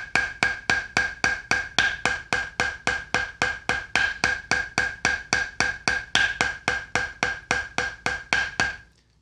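Drumline playing eight on a hand: a fast, even run of sharp drum strokes repeating in groups, bright and ringing, close and steady, ending with a louder final stroke after a brief pause.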